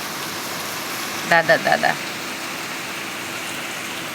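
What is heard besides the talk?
rain falling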